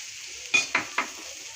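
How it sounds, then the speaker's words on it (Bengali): Onions fry in a pan with a steady soft sizzle, broken by three quick scraping stirs of a spatula, close and fairly quiet, with no voices. "তো পেঁয়াজটা একটু হালকা একটু ভাজা করে নিচ্ছি"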